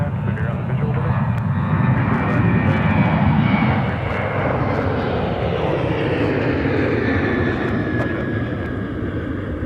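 An airliner at Minneapolis–St. Paul airport gives a steady, loud engine roar that swells slightly early on and then holds, with radio voices talking over it.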